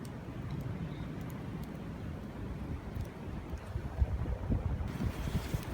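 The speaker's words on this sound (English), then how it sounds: "The wind is doing that fire good." Steady wind blows outdoors beside a small winter campfire, a constant broad rush with low gusty buffeting on the microphone that swells slightly toward the end, with no talking.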